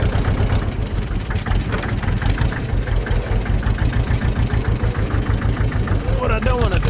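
Massey Ferguson tractor engine running near a beaver dam, a close, rhythmic low chugging with steady pulses, continuing throughout with a brief higher sound near the end.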